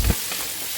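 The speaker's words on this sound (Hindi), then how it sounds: "तो बस ऐसे ही भून लेंगे आलू" Potatoes fry in a kadhai, giving a dense, steady sizzle that is close and continuous, with a brief scrape of stirring at the start.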